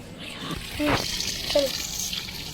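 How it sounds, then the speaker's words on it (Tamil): Rice is washed in water by hand for a homemade chicken biryani: soft splashing and sloshing with a couple of brief louder swishes, close by and fairly quiet against a steady room background. "இப்போ அரிசியை நல்லா ஒரு 2 தண்ணியில் கழுவி 3 தண்ணியில் கழுவி"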